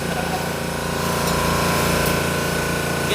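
A ship's engine runs in its engine room, a steady, loud mechanical drone with a faintly pulsing beat that holds without a break from start to finish.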